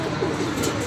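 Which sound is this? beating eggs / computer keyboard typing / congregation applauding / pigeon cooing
pigeon cooing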